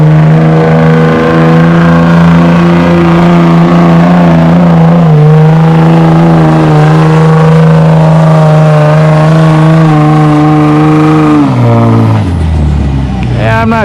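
A red Dodge truck on a tractor-pulling sled at a spring pull, its engine roaring loud and sustained for several seconds before the pitch drops sharply near the end as it comes off the power.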